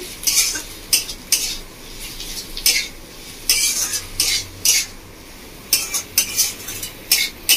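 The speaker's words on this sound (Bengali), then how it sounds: "কাঁচা লঙ্কাটা দিয়ে আমি ভালো করে মিশিয়ে নেব" Metal spoon scraping and clinking against a pan as chopped green chilli is stirred into paneer paratha filling, a rapid series of sharp close taps and scrapes with a faint low hum beneath.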